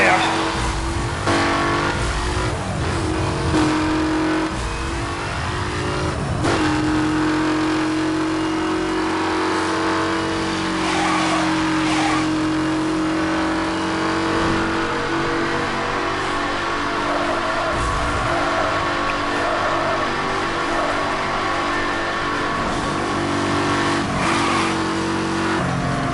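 Car engine revving hard at high speed in the racing game Need for Speed Hot Pursuit, a loud continuous drone with rising and falling pitch, occasional tire squeal, under steady talk from a player.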